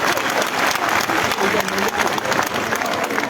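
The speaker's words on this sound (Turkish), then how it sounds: "Alkışlayın, heyecanı geçsin be ya." Applause from a crowd at a village reunion gathering, steady continuous clapping heard close throughout, with voices mixed underneath.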